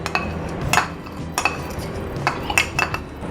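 A spoon stirs fruit chaat dressed with sweet-sour tamarind and apricot chutney, clinking sharply against the bowl in a loose rhythm of bright, close taps with soft scraping between them.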